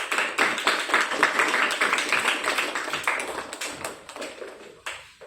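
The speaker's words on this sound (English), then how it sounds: "So give them a clap." Audience clapping after a student presentation, with dense claps that gradually thin out and fade, ending in a few scattered final claps.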